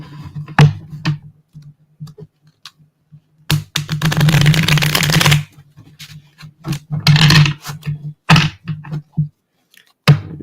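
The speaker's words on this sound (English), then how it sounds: "I can shuffle my cards" Bursts of crisp papery riffling and flicking, like cards being shuffled, come in short rapid runs with pauses and soft taps between them.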